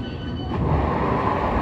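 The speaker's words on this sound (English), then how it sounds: "This is a District Line train to Upminster." A London Underground District line train to Upminster, running from Bow Road toward Upney, rumbles steadily, with a low continuous roar and faint wheel squeal from inside the carriage, no voices.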